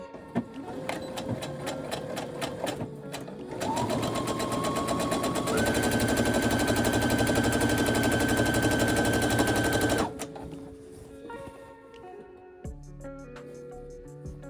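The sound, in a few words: sewing machine stitching fabric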